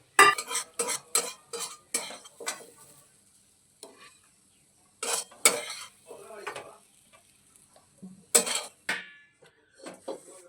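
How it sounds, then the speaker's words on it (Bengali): A spoon scoops fried ground pea dal paste out of a wok into a bowl. Sharp metallic scrapes and clinks come in separate bursts with quiet gaps between them. "এবারে আমরা একটা বাটিতে মটর ডাল বাটাটা তুলে নেব।"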